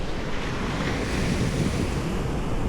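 Waves of the Pacific Ocean roar against the shore near Ediz Hook at Port Angeles, a loud continuous wash of surf mixed with heavy wind buffeting the microphone, with no voices.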